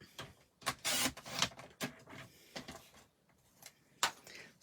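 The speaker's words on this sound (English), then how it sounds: "I'm going to square this off with my trimmer to save time" Paper trimmer squaring off a piece of card during a craft session, heard as several short, sharp slicing and clacking strokes in irregular bursts, fairly close, with quieter gaps between them.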